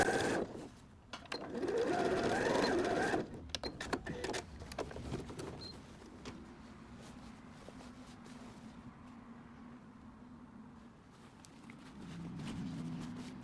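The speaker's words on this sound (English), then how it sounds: "I'm continuing the zigzag down the seam, even past where the patch is, just to reinforce it a little more" A sewing machine zigzag-stitches a patch along a trouser seam, starting with a loud close buzz, then a stretch of clicks and handling sounds and a quieter steady hum.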